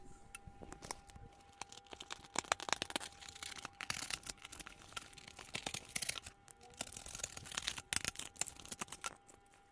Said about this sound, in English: I'm going to go ahead and cut it with a cutter.